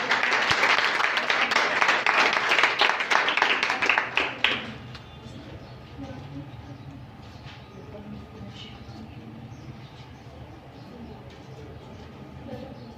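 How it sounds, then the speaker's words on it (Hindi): Applause from an audience at a women's poetry competition, loud dense clapping for about four and a half seconds before it stops abruptly, leaving quiet room tone and faint background murmur. "आपकी भरपूर तालियों में"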